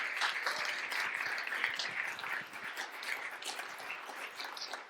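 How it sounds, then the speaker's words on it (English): Quiet, sustained clapping from an audience at a tech talk event, a soft crackle of many hands that gradually thins out toward the end. "A big applause for ANDREA GADOTTI."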